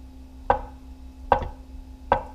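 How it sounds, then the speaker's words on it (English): A knife dices tofu into small pieces on a cutting board, giving three crisp, evenly spaced chops close by in a quiet kitchen. "I've got my tofu. It's small diced, okay?"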